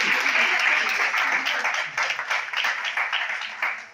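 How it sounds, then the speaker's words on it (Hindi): An audience claps at a Christmas program organized by CSM in Faisalabad: a dense, steady burst of applause that thins slightly toward the end, with voices heard over it. "एकदम फिर तालियां हो जाए"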